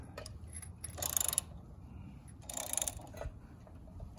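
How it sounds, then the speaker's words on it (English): Puller being cranked by hand on a Jeep 4.2 engine, two short bursts of rapid metallic ratcheting clicks, faint and close, with low rumbling background in between and no voices. "Okay, so we've got our puller installed. I've got my assistant cranking this off by hand."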